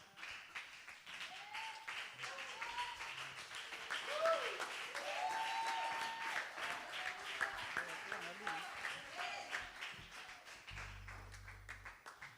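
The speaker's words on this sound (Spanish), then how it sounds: "Dele un fuerte aplauso al Señor Jesús." A church congregation applauds at a Sunday service, steady scattered clapping under a moderately distant crowd and talking voices.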